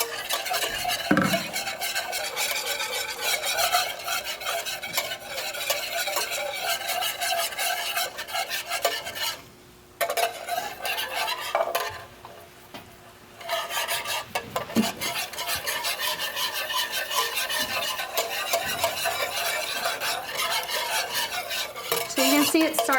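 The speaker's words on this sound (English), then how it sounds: "Just keep whisking it around." A whisk scrapes steadily around a skillet as sauce for a broccoli tomato casserole thickens, making a continuous close rasping, stirring sound that drops out briefly twice near the middle before resuming.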